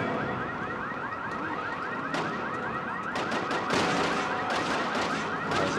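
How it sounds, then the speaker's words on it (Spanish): An alarm in the video game Resident Evil 6 wails continuously with a warbling, repeating rise and fall, loud and dense, mixed with bursts of gunfire throughout. "Prendo la alarma"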